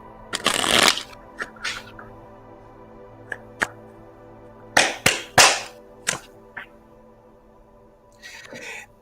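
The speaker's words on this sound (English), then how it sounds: "One more shuffle." A deck of playing cards shuffled up close during a card reading, in several quick, crisp riffling bursts with short pauses between them and no talking.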